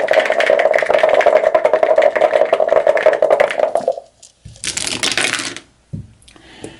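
Dice clatter and rattle in a cup for several seconds, then tumble onto a tabletop with a few quick hard clicks as they come to rest, close and fairly loud, with a brief quiet gap between.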